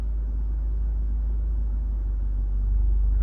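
A manual car pulls away slowly in first gear as the clutch is eased out without throttle, giving a steady low engine rumble from inside the cabin that swells slightly near the end.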